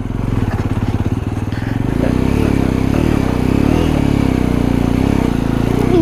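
A Jawa 42 motorcycle engine labours up a steep high mountain road toward Sach Pass, a loud, close, low chugging drone that pulses rhythmically and then thickens into a steady strained roar.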